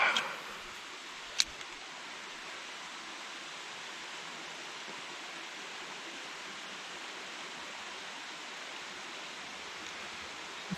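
A waterfall near Lake Bellfield at Halls Gap pours with a steady, dense rushing hiss that stays even and fairly loud throughout, broken only by one brief click near the start.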